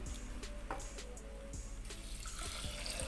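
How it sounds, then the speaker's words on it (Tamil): Water pours steadily into a pressure cooker holding soaked black kavuni rice, about three cups for one cup of rice. The splashing is close and continuous, with no talking. "இதுக்கு நான் 3 கப்பு தண்ணி சேர்த்துருக்கேன்"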